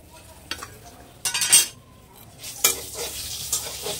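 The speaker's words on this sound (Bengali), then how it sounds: "এদিকে আমি মাছ বসিয়ে দিয়েছি রান্না করতে" Parshe fish cooks in a pan with a soft background sizzle, broken by short bursts of utensil scraping and stirring against the metal.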